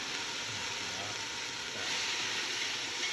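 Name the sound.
shallots sizzling in hot oil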